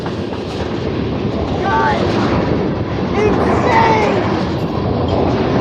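A CN manifest freight train rolls past close by in a loud, continuous rumble with faint wheel squeals, while a voice briefly exclaims over it.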